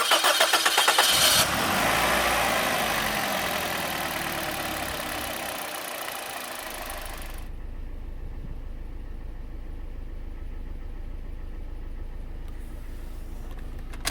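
Car engine cranks and starts, then settles into a steady low idle as it warms up to operating temperature before an engine flush with dimexide, a loud start followed by a quiet, even hum.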